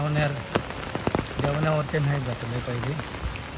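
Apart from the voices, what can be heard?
heavy monsoon rain in Mangeli village, Konkan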